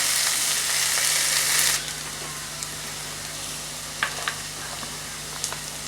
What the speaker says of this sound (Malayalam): നമുക്കൊന്ന് ഇളക്കി കൊടുക്കാം, ഒന്ന് വഴറ്റിയെടുക്കാം.